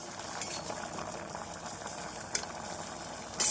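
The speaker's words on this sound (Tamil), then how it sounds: "நம் தேங்காய் சேர்த்த பின் குழம்பு நன்றாக கொதித்து வந்துவிட்டது" A pot of chickpea and drumstick curry with coconut at a rolling boil, a continuous close bubbling hiss with a sharp tap partway through and a brief clatter at the end, no voices.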